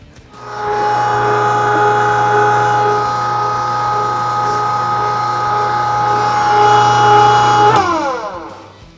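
An electric meat grinder with a 3/16 plate grinds sausage meat for a smoked ham sausage, a loud, steady motor whine and hum that runs continuously and then winds down near the end.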